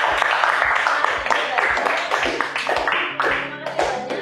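An audience at an Indonesian talk show breaks into sustained applause, dense clapping that carries on steadily for several seconds, with crowd voices mixed in.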